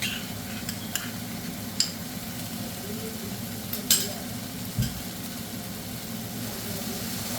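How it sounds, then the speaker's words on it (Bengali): Mustard-paste chicken is stirred with whisked yogurt in a frying pan, Bengali style, giving a steady low sizzle with occasional scraping clicks of the spoon against the pan. "মিক্স করে নিচ্ছি।"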